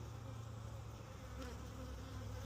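Honeybees buzz steadily at an open hive during a defensive moment, a dense continuous hum close by with no talking.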